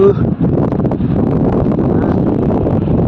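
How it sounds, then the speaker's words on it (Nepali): Wind buffets the microphone in a steady, loud rush with low gusty rumbling, no voices standing out. "मिठो हावा चल्यो।"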